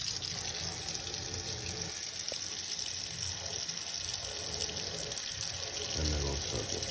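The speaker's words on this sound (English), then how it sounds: "we will add some water." Water runs steadily from a tap into a white tub for soaking microfiber towels and rags, a continuous close splashing rush with no voices.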